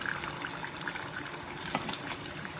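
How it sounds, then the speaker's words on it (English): Water is poured into a glass salsa jar while green beans are being cooked, a steady close trickle and splash filling the jar, with a low hum underneath and no talking. "So I'm going to add a little water to this jar."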